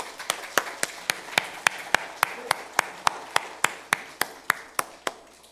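A church mission gathering claps in a steady, evenly spaced rhythm, about four sharp claps a second, crisp and close, with no voices over it.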